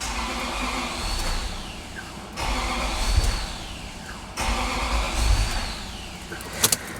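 A Toyota engine idling rough with its coolant sensor disconnected, three surging pulses of uneven revving as the throttle is blipped, close and loud, ending with a short clatter.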